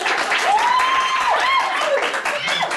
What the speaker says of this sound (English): If you can give me your best applause for the table that you liked the best, that would be great.